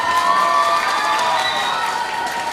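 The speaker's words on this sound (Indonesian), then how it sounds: "Tepuk tangannya mana?" Students in a middle school hall during an OSIS student council candidate debate give a short burst of clapping and high-pitched cheering as a pair of candidates comes forward. The sound is loud, dense and crowd-filled.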